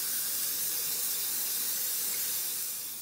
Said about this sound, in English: Now we're going to spray our shell heavily with PAM.